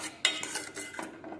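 A spoon stirs thick spiced yogurt tikhari in a pot, giving a few soft scrapes and one sharp metallic clink against the rim, close and fairly quiet.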